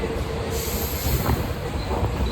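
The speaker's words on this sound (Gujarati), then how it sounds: "અમારા ટ્રેનની સ્પીડ હવે થઈ ગઈ છે ફૂલ" A train rushes along at speed, a steady loud rumble of wheels and rails with a faint high squeal above it.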